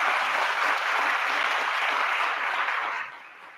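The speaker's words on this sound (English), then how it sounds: "Let's give them a round of applause for putting on this tonight." Dense audience applause at an evening event honoring students, sustained and loud from many hands, then thinning out near the end.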